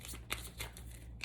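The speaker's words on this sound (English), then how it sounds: "And we'll shuffle one more time here." A deck of cards is shuffled close by, with faint, quick riffling and crisp flutters rising from low background hum in a short, quiet burst.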